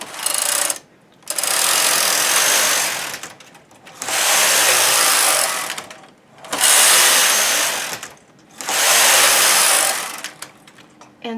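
A domestic knitting machine's main carriage is drawn back and forth across the needle bed for a row of a pile-knitted hat, giving loud whirring sweeps about two seconds long with short pauses between them, four passes in all.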